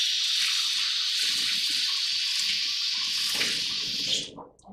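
Hot tap water pours steadily onto a wet glass polisher, a continuous close hiss and splash lasting several seconds before cutting off abruptly at the end.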